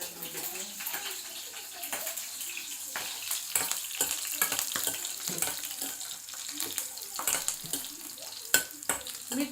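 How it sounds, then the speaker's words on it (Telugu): Chillies frying in hot oil, a steady crackling sizzle with clicks and sharp pops scattered throughout, close and moderately loud, no talk. "మిర్చి ఆయిల్లో బాగా ఫ్రై అయిపోతే"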